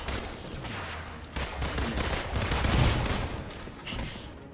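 Rapid bursts of gunfire from Black Widow's weapon in Marvel's Avengers, several dense shots layered over a busy game mix, steady and fairly loud across the stretch.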